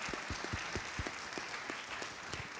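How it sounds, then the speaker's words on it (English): Audience applause from a crowd at a leadership talk, a steady wash of many hands clapping at moderate volume and sustained throughout, with no voices over it. "Can we give one more round of applause?"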